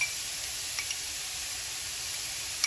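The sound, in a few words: mirepoix, garlic and shallots sweating in a pan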